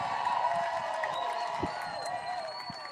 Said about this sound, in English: please give another round of applause to all of our speakers today